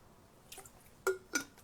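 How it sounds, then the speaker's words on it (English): Water sipped from a glass: a few soft, brief clinks and small liquid sounds, close and quiet, in a near-silent room. "let me just get a sip of water"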